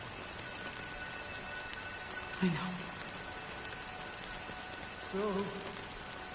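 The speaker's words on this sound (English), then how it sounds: "But it's still raining." Steady rain falls in a constant hiss over the whole stretch, with a voice speaking briefly twice over it.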